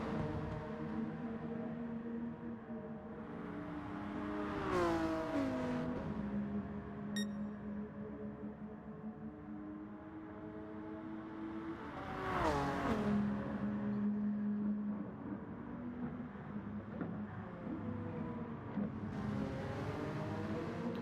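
Racing car engines in a video game race drone steadily with rising and falling pitch, several cars passing close with loud swells and gear shifts, no talk over them.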